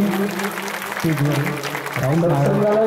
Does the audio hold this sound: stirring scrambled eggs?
no